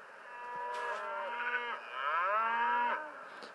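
Cartoon cattle in The Simpsons: Tapped Out mobile game low out in several drawn-out, overlapping moos, loud and clear over a quiet background with no talking.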